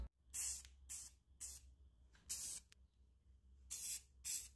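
Spray paint from an aerosol can, hissing out in six short bursts with brief pauses between, close and fairly quiet against a low background hum.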